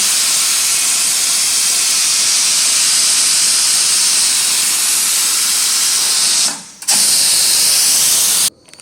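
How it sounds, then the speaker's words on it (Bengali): Pressure cooker holding a thin duck curry vents its steam before the lid comes off, a loud, continuous close hiss with a rattling edge that briefly dips near the end, then cuts off. "এটা আমরা গ্যাসটা বের করে নেবো ঢাকনাটা খোলার জন্য।"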